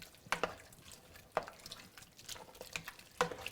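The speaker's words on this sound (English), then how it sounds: "give it another stir." A spoon stirs turkey chili with cilantro in a pot, giving several faint, scattered clinks and soft wet scrapes against quiet background.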